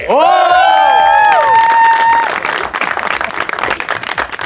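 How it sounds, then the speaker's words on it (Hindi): A studio audience at an Eid special TV show welcomes a guest with loud cheers and rising whoops that give way to a sustained round of close, crackling applause. "तालियों में इस्तकबाल कीजिएगा जुल्फी बुखारी"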